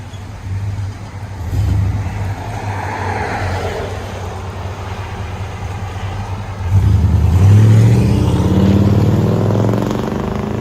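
A 1998 Chevy Silverado 1500 with a 5.7L V8 and a 14-inch Magnaflow exhaust idles with a deep, loud rumble, then revs up sharply partway through and holds the louder, throatier note.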